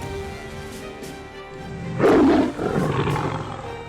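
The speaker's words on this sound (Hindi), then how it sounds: "यहाँ इनकी दहाड़ पूरे जंगल में गूंजती है।" A Bengal tiger roars in the forest of Tadoba, a loud, close, rumbling roar bursting in midway over a low ambient bed, followed by a second, slightly softer roaring phrase.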